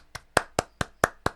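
Six sharp sampled hand claps from an Amiga music disk, evenly spaced in a quick steady rhythm, crisp and isolated with silence between hits.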